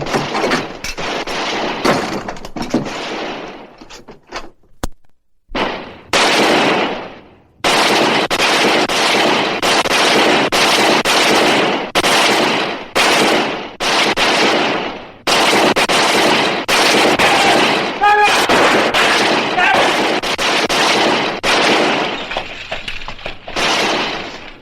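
Rapid gunfire fills a 1950s Western radio drama, loud volleys and crackling bursts repeated over and over with brief pauses, glass breaking and shattering in among the shots.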